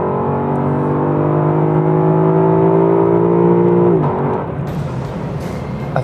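A 2017 Lexus LC 500 engine revs high, climbing steadily in pitch toward 7200 rpm for about four seconds, then cuts off abruptly and drops to a quieter rumble, loud and close with no talk.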